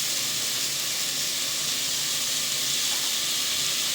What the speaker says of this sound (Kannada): ಇದು ಸ್ವಲ್ಪ ಚೆನ್ನಾಗಿ ಫ್ರೈ ಮಾಡೋಣ. ಈಗ ಇದಕ್ಕೆ ಸಾಂಬಾರ್ ಪೌಡರ್ 1 ಸ್ಪೂನ್ ಹಾಕೋಣ